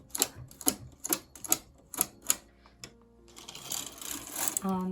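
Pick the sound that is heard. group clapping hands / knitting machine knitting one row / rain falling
knitting machine knitting one row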